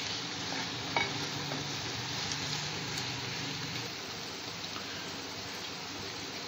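Paneer being gently stirred into a sizzling mixture on a tawa, a steady frying hiss with soft scraping strokes throughout, close and even, no voices.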